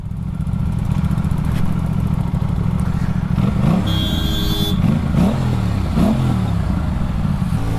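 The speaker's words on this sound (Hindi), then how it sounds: "मतलब 4-5000 आरपीएम तक रेव करता हूँ, छोटे छोटे पटाखे से मारती है" An Aprilia RS 457 motorcycle fitted with an IXIL SX1 aftermarket exhaust revs loudly up close, several blips rising to around 4,000–5,000 rpm over a steady idle, with small pops on the overrun.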